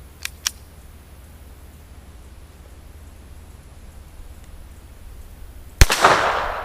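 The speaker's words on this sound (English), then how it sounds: "Fired that time." A Ruger Mark III .22 LR pistol fires a single Remington round near the end, one sharp loud crack with a brief ringing decay, after two faint clicks and a quiet pause.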